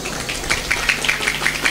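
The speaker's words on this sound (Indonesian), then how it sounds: "Kok tepuk tangan terus sampean?" A congregation at a religious lecture claps in a quick, steady rhythm of repeated beats, moderately loud and close, with no talking over it.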